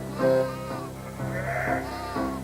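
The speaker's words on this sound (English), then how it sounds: "and 800 sheep" Sheep on a farm in Devon, England bleat in long, wavering calls, two or three overlapping cries close by against a steady flock murmur.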